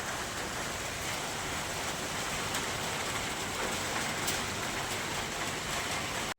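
Rain falls steadily as a soft, even hiss over a farm field, faint and unbroken throughout, with no voices.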